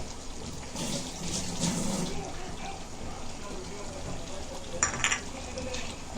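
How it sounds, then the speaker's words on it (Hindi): Chicken curry stirred with a spoon in a pot, a soft continuous scraping and sloshing with faint sizzle, moderately close, with a brief brighter clink near the end and a voice talking faintly in the background. "अभी इसको चम्मच मार के अच्छे से हिलाएंगे।"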